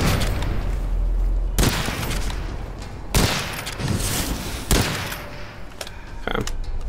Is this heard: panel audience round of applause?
no